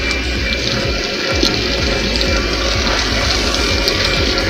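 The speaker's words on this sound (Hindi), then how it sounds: "मोटर से अभी गर्म पानी निकल रहा है।" Steady rushing water pours loudly and continuously from a village water pump, with a low motor rumble underneath, close by and without any voices.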